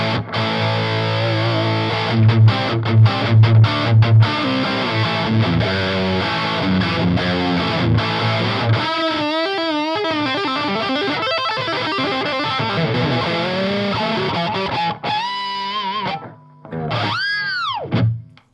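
Overdriven electric guitar through a Wampler Pinnacle Deluxe overdrive pedal into a clean amp, playing chunky riffs and sustained notes, loud and continuous, with bursts of higher bent notes toward the end.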